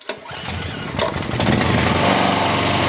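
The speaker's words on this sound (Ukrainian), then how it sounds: "Запускаємо генератор, кому треба." A petrol generator is pull-started and catches at once, its small engine building to a loud, steady, buzzing run close by.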